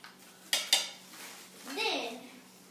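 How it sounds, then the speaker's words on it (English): A mixing spoon clinks twice against a bowl of baking powder mixture for a volcano experiment, followed by soft stirring and scraping noises close by, fairly quiet overall. "Then you start stirring it."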